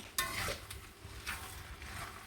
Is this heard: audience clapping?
no